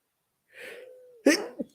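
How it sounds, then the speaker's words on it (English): A single sneeze with a drawn-in breath first, then a sharp burst and a quick follow-up sniff, close and fairly loud. "Hold on, I got to sneeze."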